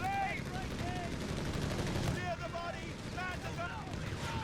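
Machine gun fire rattles in rapid continuous bursts in a video-game battle, dense and steady throughout, with a player talking over it.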